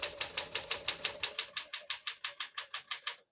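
Typing on a 1964 Smith-Corona Classic 10 portable typewriter: about fifteen crisp, evenly spaced key strikes in a steady rhythm, close and clear, with no voices.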